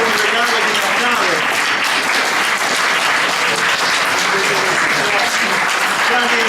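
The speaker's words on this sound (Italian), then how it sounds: "Ok, direi che facciamo un applauso." Audience applause at a bilingual Italian-French conversation event, a dense, steady wash of clapping that lasts throughout, with voices faintly underneath.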